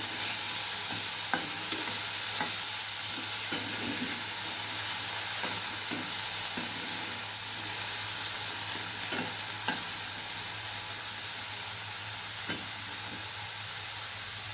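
Food is stirred in a hot pan under a steady, fairly loud frying hiss, with scattered sharp scrapes and taps of the spoon over roughly fifteen seconds.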